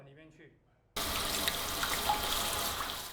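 Water gushes from a urinal siphon into a sewage pipe, starting abruptly after a moment of quiet and rushing steadily and close for the rest of the clip.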